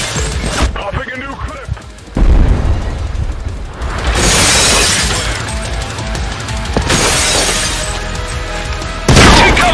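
Explosions and rapid gunfire in the shooter game Trepang2, with a heavy frag grenade blast and bursts of automatic fire crashing loudly in repeated waves, a voice calling out over the combat.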